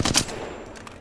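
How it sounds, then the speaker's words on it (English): Rapid automatic gunfire in Apex Legends while strafing left, a quick burst of several sharp close shots in the first fraction of a second, then a few fainter trailing shots as the sound decays. "This is going to be me shooting and strafing left."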